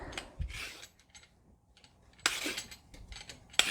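Scraping strokes of a vegetable peeler on potatoes, turnip and carrot, quiet rasping bursts separated by brief pauses, with a couple of sharper clicks.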